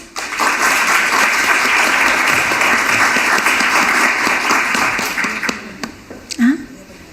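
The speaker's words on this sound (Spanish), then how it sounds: "Un aplauso." A conference audience at a university colloquium on work-life balance and shared care applauds in a loud, dense, sustained burst, with many hands clapping together before the sound thins out and stops near the end.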